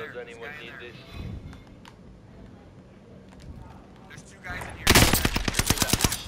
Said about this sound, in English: I was getting shot from behind somewhere.